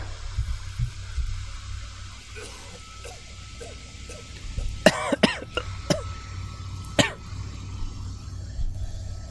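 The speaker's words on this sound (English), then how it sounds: "doing my cough" A few sharp coughs close by, one quick burst of several followed by a single cough, over low traffic rumble.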